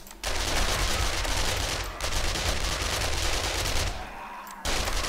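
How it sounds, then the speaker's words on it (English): SMG fire in the survival game 7 Days to Die during a horde fight, sustained loud automatic bursts filling the scene with only short breaks between them. "SMG."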